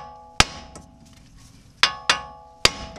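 A hammer strikes a steel steering knuckle on a 2003-2013 Toyota Corolla to free the ball joint, four sharp metallic clanks spread unevenly over a few seconds, each close and ringing briefly, with quiet between them.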